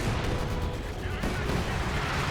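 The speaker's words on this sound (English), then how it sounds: "So he's bombarding them mercilessly with his mortars here." Mortar bombardment in the real-time strategy game Company of Heroes 2, a dense, loud barrage of booming impacts and crackling gunfire layered continuously with no pause.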